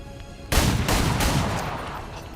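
Gunshots in the video game XCOM 2: a sudden loud blast followed by a sustained rattling volley of fire that stays strong for nearly two seconds, then tails off slowly.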